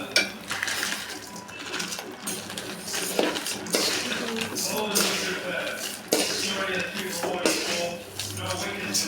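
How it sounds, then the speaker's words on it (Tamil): Coriander seeds dry roasting in a pan give a continuous rattling, scraping clatter of seeds and utensil against metal, close and fairly loud throughout with irregular sharper clinks. "மல்லியை நல்லா வறுத்துக்கணும்."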